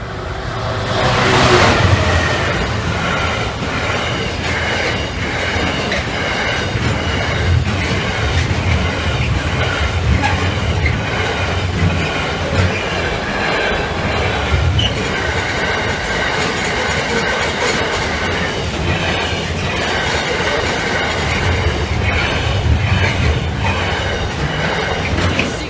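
A freight train rolls steadily past a Lincolnshire level crossing at Kesteven Sidings on the Gainsborough to Doncaster line, a continuous loud rumble of wagons with rhythmic clickety-clack and engine drone lasting throughout, no voices.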